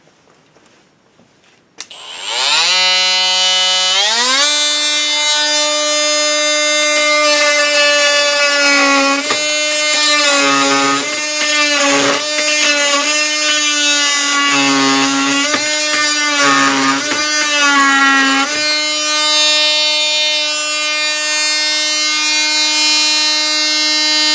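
A Kobalt 24V brushless oscillating multi-tool (KMT 124B-03) starts up and buzzes with a loud, steady high-pitched drone as it cuts through trim nails, the pitch bogging in short dips under load before settling and running on alone.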